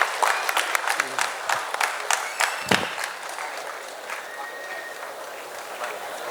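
A crowd at a state-level student oratory competition final applauds a prize winner, loud dense clapping at first, then gradually softening and fading over several seconds.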